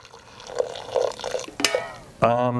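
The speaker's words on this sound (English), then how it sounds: "I'm going to use my French press and just add some hot water to it" Hot water poured into a French press holding hops, with intermittent splashing and trickling bursts and a voice talking near the end.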